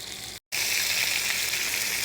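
Meat frying in oil in a pan, a loud, close, continuous sizzle cut by a very short dropout near the start and then resuming evenly, with no voices.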